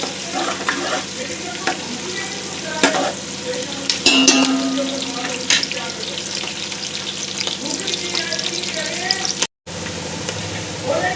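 Chopped onions sautéing in a pan for Maharashtrian masale bhat, a steady close sizzle throughout with occasional scrapes of stirring and a brief dropout near the end.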